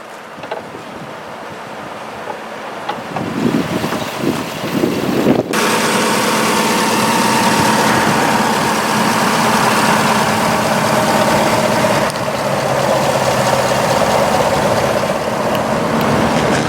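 A 2018 Chevrolet Tahoe Premier with the hood open: some faint handling noise at first, then the engine starts and settles into a loud, steady idle up close for the rest of the stretch.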